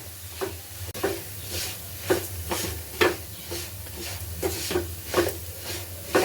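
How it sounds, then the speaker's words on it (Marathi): A spoon scrapes rhythmically through a thickening beetroot and coconut mixture in a hot pan, each stroke a soft rasp over a low sizzle, repeated steadily about once a second with no talking. "आपण ते सतत हलवून त्याला थोडंसं घट्ट करून घ्यायचं आहे"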